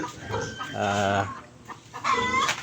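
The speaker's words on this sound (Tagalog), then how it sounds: "Ayan ang mga inahin." Four mother hens cluck in short, irregular bursts on a farm, fairly close and moderately loud, with no talking.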